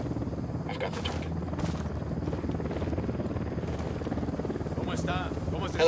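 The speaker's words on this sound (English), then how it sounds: "Helicopter incoming." A helicopter approaches in the video game Ghost Recon Wildlands, its rotor chopping as a low, steady rhythmic thrum under ambient game noise that swells slightly near the end.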